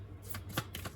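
Tarot cards being shuffled and drawn, a soft quick riffling flutter with a few crisp card snaps, close and quiet.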